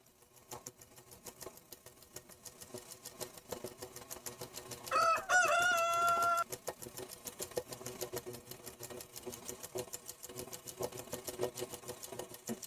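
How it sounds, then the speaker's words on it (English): Sewing machine stitching rickrack onto a quilt block, a steady rapid mechanical chatter running throughout at close range, with a brief rooster-like crow rising over it near the middle. "I'm sewing right alongside that line."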